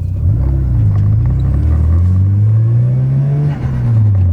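A turbocharged right-hand-drive Mazda RX7 rotary engine revs loud and close, pitch climbing steadily, holding high, then dipping briefly before rising again, with a deep rumbling exhaust throughout.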